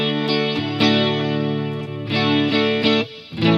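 An electric guitar through a Mooer GE300 multi-effects unit with slight distortion and a chorus or flanger plays sustained, swirling chords that are restruck several times, loud and close with no voices.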